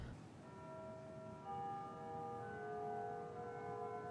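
A plain, steady bell rings on in sustained overlapping tones, like an old-fashioned alarm clock, moderately loud with no talk over it.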